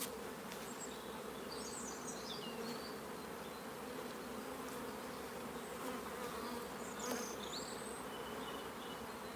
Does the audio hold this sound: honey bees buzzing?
yes